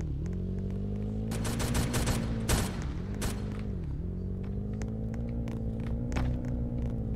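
Rapid bursts of gunfire ring out in Roblox Brookhaven, clustered shots crackling over a steady low engine-like drone, with a sharp louder burst midway.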